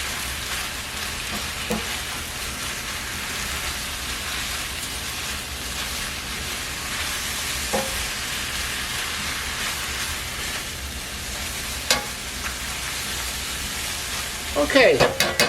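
Spinach wilting in a hot pan for Chinese spicy spinach noodles, a steady soft sizzle and hiss with occasional stirring clicks and a louder clatter near the end, no talking heard.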